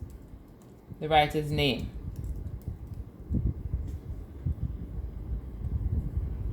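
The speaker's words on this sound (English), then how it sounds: "You press enter twice, tab again, and then you type" Keys clatter on a computer keyboard as someone types a letter, with a brief spoken phrase early on and then a run of close, irregular tapping that continues to the end.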